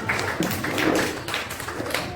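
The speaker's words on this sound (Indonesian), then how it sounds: "Ayo kasih tepuk tangan untuk kelompok 4." Brief classroom applause from students for a group: a dense, moderately loud patter of many hands clapping at once, with no clear speech.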